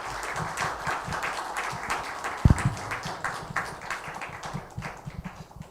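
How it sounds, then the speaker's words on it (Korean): A seminar audience at Hanyang University applauds to welcome a pastor as guest lecturer: steady, dense clapping from many hands held at an even level for several seconds, with faint murmuring underneath. "이민재 목사님 박수로 환영하겠습니다"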